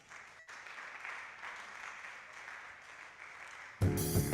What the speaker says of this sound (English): A round of applause for Dr. Victor for that wonderful presentation on communication skill.